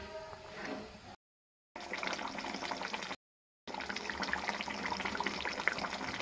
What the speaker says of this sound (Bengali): মাছগুলো দিয়ে বেশ কিছুক্ষণ আমি ঝোলটা ফুটিয়ে নেব